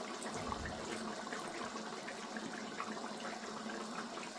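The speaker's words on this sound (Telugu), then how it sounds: "ఇప్పుడు ఫ్రెష్ మిల్క్ పోస్తున్నాను." Fresh milk is poured into a simmering spinach chicken curry, giving a soft, continuous liquid gushing and splashing that stays faint and steady throughout.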